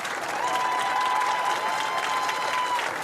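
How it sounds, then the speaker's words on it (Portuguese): Crowd applause at a DTM touring-car podium ceremony at the Nürburgring, steady dense clapping throughout with a faint sustained tone from the PA system underneath. "Criança já reconhecendo a palma, os aplausos."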